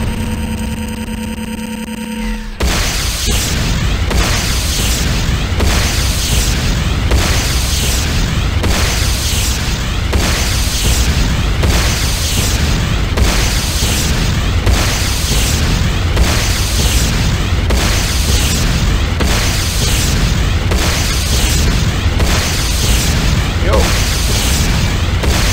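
Continuous booming explosions and rumbling blasts from a GDI power plant being destroyed in the game C&C Renegade, loud and sustained with repeated bursts after a brief quieter tonal opening.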